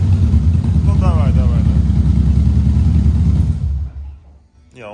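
Harley-Davidson motorcycle fitted with a Vance & Hines Hi-Output 2-into-1 Short exhaust, idling with a deep, loud, steady rumble close by, then cutting out into near silence near the end.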